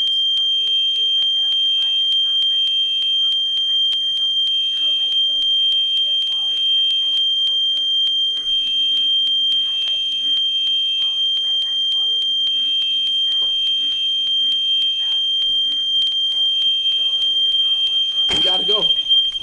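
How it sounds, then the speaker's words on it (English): A fire alarm in a dormitory building beeps in steady, loud, repeating bursts, a high electronic tone that continues throughout with a persistent whine. Faint voices and movement are audible beneath, and a sharp noise comes near the end. "We have a fire alarm."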